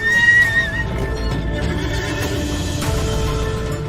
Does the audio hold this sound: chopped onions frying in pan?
no